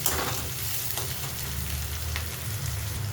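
Chopped onion and curry leaves frying in hot oil, a steady close sizzle with light crackle throughout and no talking.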